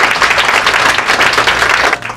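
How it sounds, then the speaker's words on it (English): Audience giving a round of applause at a morning event in Baltimore, a steady, loud, close wash of clapping throughout with little else audible. "Give her another round of applause."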